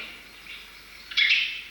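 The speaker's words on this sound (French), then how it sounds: "C'est un rouge-gorge." A European robin calls outdoors in a quiet woodland setting, a thin high chirping phrase that swells brighter and louder near the end, with no voices over it.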